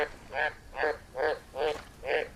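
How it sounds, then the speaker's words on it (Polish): Frogs croak in the jungle of the VR survival game Green Hell, giving five evenly spaced, moderately loud croaks in a steady rhythm over quiet ambience. "Żaby są."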